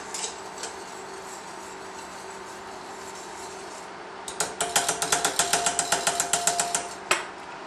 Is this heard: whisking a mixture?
yes